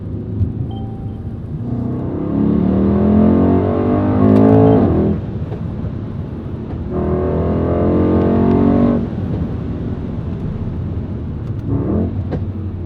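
A Mercedes-AMG E63 S with a performance exhaust revs hard twice with deep exhaust roar, each burst lasting a few seconds, then settles back to a rumbling idle, with a short blip at the end.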